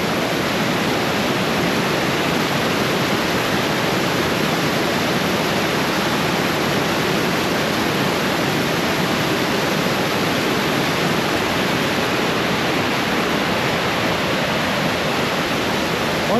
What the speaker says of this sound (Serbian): Ona bukvalno izvire iz ovog brda.